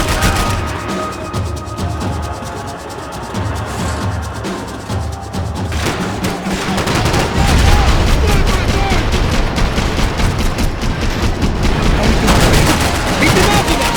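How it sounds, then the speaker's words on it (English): Constant gunfire and bullets crack through a firefight in Max Payne 3, dense rapid shots that grow louder and heavier partway through, with characters shouting over the noise. "I can't concentrate with bullets whizzing past my head."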